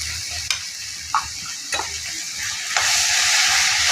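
Ground coriander and cumin masala is stirred and roasted in a pan, giving a soft steady sizzle with several sharp clicks and scrapes of a spoon against the metal, close and fairly loud. No speech.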